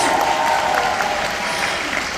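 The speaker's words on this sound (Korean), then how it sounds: "오늘 제가 센 강의 할 수 있도록 여러분 많이 박수 부탁드립니다" Audience applause at a Nu Skin business lecture, a full and steady burst of clapping from a crowd for about two seconds, loud and close with no talk over it.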